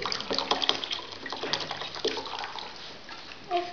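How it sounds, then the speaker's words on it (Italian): A can is dipped into a basin of water, giving close splashing, trickling and dripping sounds in irregular bursts, louder at first and easing off, with a brief higher squeak near the end. "prendere la lattina e versarla dentro la bacinella, immergerla dentro la bacinella dell'acqua"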